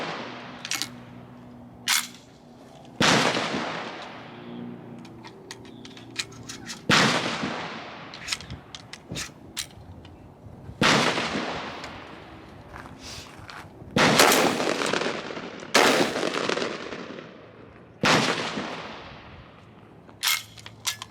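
Garaysar Fear 114 semi-automatic shotgun fired outdoors, about nine loud sharp blasts at irregular intervals, each with a decaying tail, over faint background noise.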